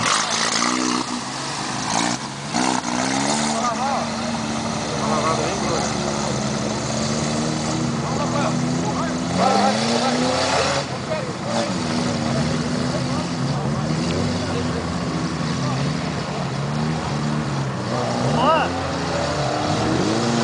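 An off-road vehicle's engine revs and drones loudly and steadily throughout at a trail ride event in Turvo, Santa Catarina, with the pitch rising and falling and people talking faintly underneath.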